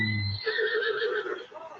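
A horse neighs in the video game The Legend of Zelda: Breath of the Wild, a short snort followed by a loud, drawn-out whinny close by, with no talk over it.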